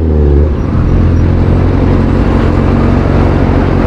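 Heavy road traffic rumbles from inside a car, a loud continuous low engine drone and road noise with no voices.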